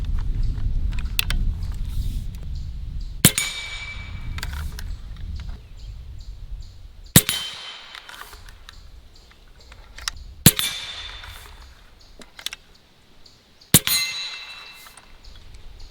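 Pellets from an AEA Element Max air rifle striking swinging steel targets outdoors, giving four or five sharp metallic clangs spaced a few seconds apart, with faint rattles and low rumbling background between hits.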